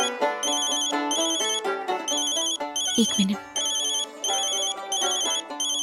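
A phone ringtone plays a loud, repeating electronic melody in short, regular bursts, and a voice briefly speaks over it in the middle.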